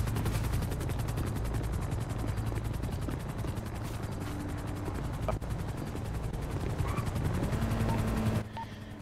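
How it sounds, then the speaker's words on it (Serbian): Gunfire bursts crackle through a chaotic GTA street shootout during a police raid, rapid repeated shots mixed with a low engine or helicopter drone, loud and dense throughout, briefly cutting out near the end. "Čujem pucnjavu, ljudi"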